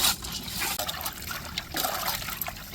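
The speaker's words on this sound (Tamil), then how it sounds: "உப்புக்கல் போட்டு உரசி அலசும் போதே" Water trickling and splashing while fish rubbed with coarse rock salt is rinsed, a continuous close liquid pouring and sloshing with no voices.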